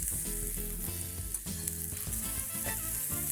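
Pollo asado chicken cooking in a hot pan for tacos, giving a continuous bright sizzle partly buried under loud background music with a steady beat.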